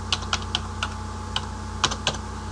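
Keystrokes on a computer keyboard while data is entered into an Excel attendance register, about eight separate taps with irregular gaps, close and fairly quiet over a steady background hum, with no talking.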